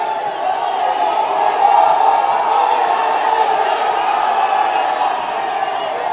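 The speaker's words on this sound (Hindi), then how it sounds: "और जोरदार तालियों के साथ" A large crowd at a political rally roars and cheers continuously, a loud sustained wash of voices with no breaks.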